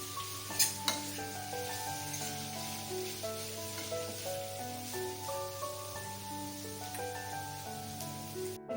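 Suran (elephant foot yam) curry sautéing with turmeric and red chili powder gives a steady, soft sizzle that runs through the whole stretch beneath melodic background music, with a couple of brief utensil clicks near the start.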